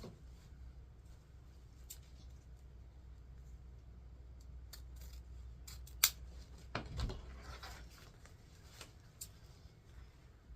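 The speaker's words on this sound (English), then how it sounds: "I'm going to cut it the opposite way as the last one" Scissors snipping satiny ribbon for a patriotic wreath bow, a few sparse quiet cuts against soft background hum, with one sharper snip near the middle, no talk.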